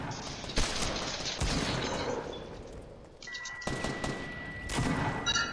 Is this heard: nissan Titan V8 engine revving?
no